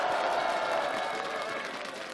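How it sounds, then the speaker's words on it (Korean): Applause from an outdoor crowd at a cold-weather presidential campaign rally in Suwon, a steady wash of clapping that fades slightly over two seconds, moderately loud with no voices on top. "박수 한번 부탁드립니다"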